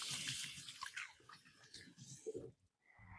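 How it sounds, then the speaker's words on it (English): Hands are washed under a running kitchen tap, water splashing and hissing near the microphone, then cutting off abruptly to near silence before a faint rustle at the end. "I'm going to wash my hands now."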